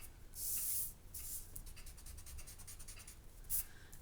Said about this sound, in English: I'm going to go back in and I'm going to erase my stick letter